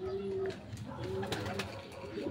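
Racing pigeon arriving at its loft after a hard training race, soft low cooing notes repeated a few times, faint and near, with someone talking quietly in the background.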